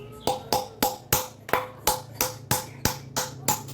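Sharp metallic taps knock out a worn front wheel bearing on a Honda Vario 125 scooter, about a dozen evenly spaced, ringing strikes at a steady rhythm, close and clear with no talking.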